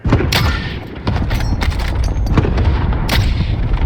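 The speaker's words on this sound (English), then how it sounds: "Cluster strike away." Cluster strike in Call of Duty Warzone: a rapid chain of heavy booms and sharp blasts, loud and close, rolling in overlapping bursts with crackling impacts.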